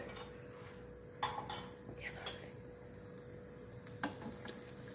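Watermelon dosa cooks in ghee on a pan with a soft steady sizzle, punctuated by a few metallic clinks and scrapes of a utensil against the pan, close and quiet with no speech.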